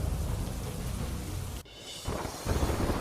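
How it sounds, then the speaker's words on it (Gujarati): Heavy downpour pounding Mundra in Kutch, with water running over the road; a dense roar of rain, broken by an abrupt cut before the rain noise resumes, with low rumbling underneath. "કચ્છના મુન્દ્રામાં ધોધમાર વરસાદે ધડબડાટી બોલાવતા રસ્તા પર વહેતું થયું પાણી."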